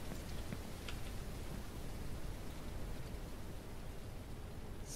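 Rain falls in the farming game Ranch Simulator as a steady, quiet, even hiss that fills the whole stretch without pause or voices.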